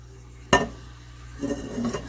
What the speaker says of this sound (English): And we're going to stir those around.